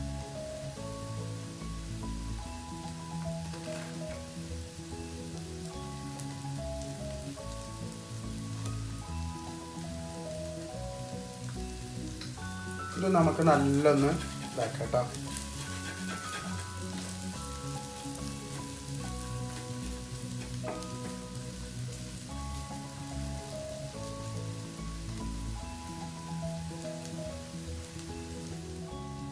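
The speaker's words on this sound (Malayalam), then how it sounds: "അപ്പോൾ നമ്മുടെ ഈ വെളുത്തുള്ളിയും ഇഞ്ചി ഇതൊന്ന് മൂത്തും നല്ലൊന്ന് മൂക്കണ്ട കേട്ടോ." Chopped garlic and ginger fry in hot oil in a pan for a chicken stew, giving a steady, dense sizzle throughout. Partway through there is a short burst of louder clatter, and a voice speaks briefly.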